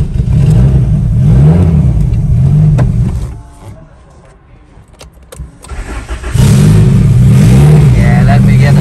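A widebody Lexus IS300 with a turbocharged 2JZ engine rumbles loudly nearby, drops away briefly as it is restarted with a few sharp sputters, then roars back into a strong revving idle, with voices talking over it.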